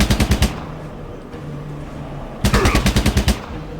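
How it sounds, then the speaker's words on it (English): Two rapid bursts of automatic gunfire from Fallout Tactics, each a tight string of about eight loud, sharp shots, separated by a quieter pause with a low hum. "Burst fire."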